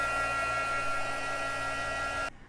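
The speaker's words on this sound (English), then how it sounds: "I'm gonna take my heat gun and I'm gonna dry this" A heat gun blows hard and steady over wet watercolour paint, a loud continuous whirring hum with a fan drone that cuts off abruptly near the end.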